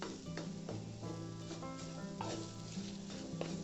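Mashed jackfruit seeds are stirred into sizzling sautéed onion, garlic and grated coconut for a podimas. A spatula scrapes the pan over a steady frying hiss, with a low hum behind.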